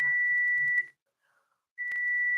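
A kitchen timer beeping during sourdough scone baking, a steady high electronic tone that holds for nearly a second, stops, then starts again.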